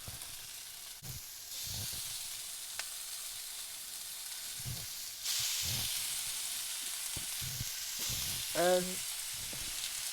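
Beef for pepper steak sizzles steadily in a hot pan, a loud continuous frying hiss throughout with occasional stirring clatter and a brief voice near the end.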